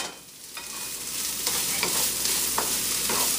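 Peppers frying in a hot pan, a steady close sizzle with a few sharp crackles and pops scattered through it and no voices over it.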